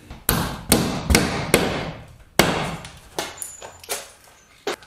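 Hammer strikes driving a nail into wood inside a pole barn under insulation work, about a dozen sharp irregular blows with ringing decays, some spaced, some in quick pairs, fairly close.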